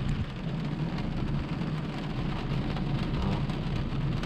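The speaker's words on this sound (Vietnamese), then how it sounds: "Mưa bên trên này các bạn." Rain falls on the glass sunroof of a Mercedes E350 AMG, heard from inside the leather-trimmed cabin as a steady, dense patter with a low rumble underneath, constant throughout.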